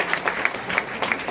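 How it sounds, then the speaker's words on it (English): A summit audience gives a brief round of applause, a close, lively patter of many hands with a few sharper claps standing out, steady throughout. "Can you give them a round of applause?"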